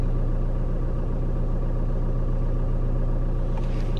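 Car engine idling with a steady low rumble inside the car just before driving off, a constant close drone with no talk.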